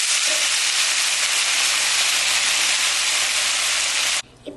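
Sabudana frying in a pan with ginger and dried chili gives off a loud, steady broadband sizzle that holds for about four seconds, then drops off suddenly into quiet stirring.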